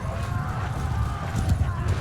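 Horse hooves clip-clop at a steady trotting rhythm during a battle in the video game Mount & Blade II Bannerlord, close and moderately loud over a dense rumbling backdrop, with a voice speaking over it.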